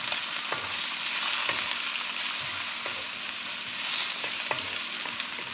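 Garlic and onions sauté in a pan for Filipino kare kare, a steady close sizzle with a few soft scrapes of a utensil spaced through it, no voices.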